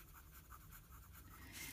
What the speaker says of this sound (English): You can hear it scratchy,